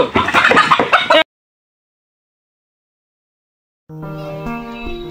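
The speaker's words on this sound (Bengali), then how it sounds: "চলছে মুরগি ধরার জন্য হাড্ডাহাড্ডি লড়াই।" Chickens cluck and squawk loudly up close for about a second, then silence, followed by a burst of tonal music.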